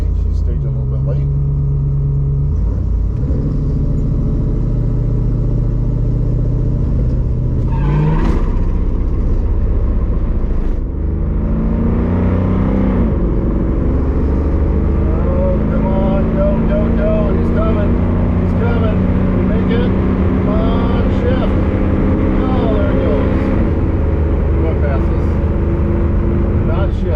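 A 1972 Ford Maverick makes a drag strip launch, its engine revving hard and climbing through the gears as the wheels spin. The loud roar swells and surges across the run, then falls away.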